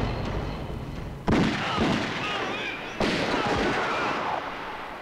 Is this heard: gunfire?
yes